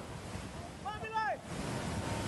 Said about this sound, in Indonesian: inilah detik-detik saat banjir bandang terjadi di Sungai Sembahe dan menghanyutkan sebuah mobil